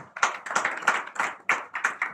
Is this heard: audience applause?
yes